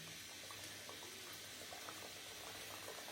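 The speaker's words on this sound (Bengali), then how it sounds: "পিঠাগুলো ডুবো তেলে ভাজতে হবে।" Coconut puli pitha deep-frying in hot oil in a kadai, a dense, even bubbling sizzle with faint crackles that holds at the same level throughout, without any talking.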